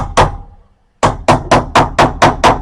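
Sharp metallic hammer blows nailing an electrical box strike up close: one hit, a short pause, then six steady strikes in an even, quick rhythm.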